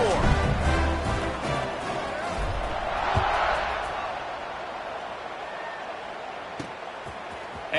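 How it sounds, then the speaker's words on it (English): A college football stadium crowd buzzing after a score in a game against Kansas, a broad steady roar of many voices under close play-by-play commentary, swelling briefly then settling into a distant murmur. "and this crowd is buzzing after that last score."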